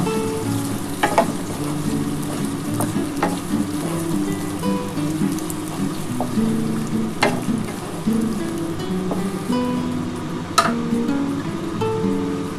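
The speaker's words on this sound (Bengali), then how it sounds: "এই ক্যাপসিকামটাও দিয়ে দিলাম দিয়ে আমি একটু ভালো করে নাড়াচাড়া করে নেব" Slit green chillies and capsicum sizzle and hiss in a pan of oil, a dense rain-like frying noise with intermittent clinks and scrapes of a spoon stirring, close up and continuous without talk.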